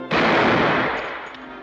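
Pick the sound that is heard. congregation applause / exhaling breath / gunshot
gunshot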